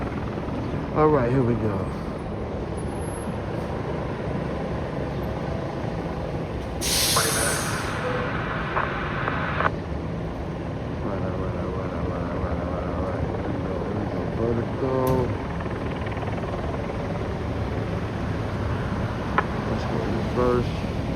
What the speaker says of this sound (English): Yeah, I'm hearing a police helicopter too.